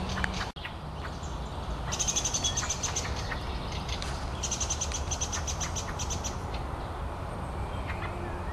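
Tits and thrushes singing in a Moscow park, with bright repeated chirps and calls coming in bursts over steady outdoor background noise.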